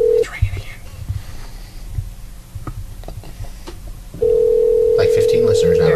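A telephone line rings out through a handset, a steady electronic tone that stops briefly and then returns loud and sustained, with voices talking quietly over the line noise before it.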